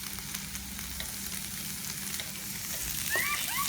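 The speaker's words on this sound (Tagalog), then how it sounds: "Grill natin ang mushroom." Mushrooms sizzle on a hot grill, a continuous close crackling hiss with faint scraping and clinks near the end, no talk.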